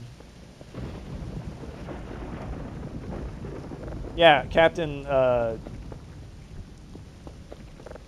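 A crack of thunder from a storm in the game Voices of the Void splits into several quick, sharp bursts over steady rain, while someone talks briefly nearby.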